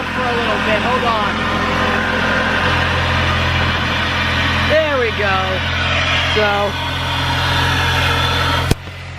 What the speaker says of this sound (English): you can see it's kind of loud because this is the intake.